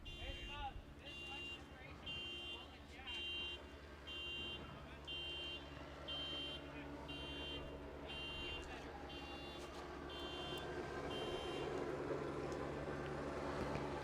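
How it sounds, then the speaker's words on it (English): A car alarm going off near an outdoor lawn-bowls pairs final, its repeating electronic tones pulsing steadily in the distance over a continuous background hum. "First we had a car alarm go off"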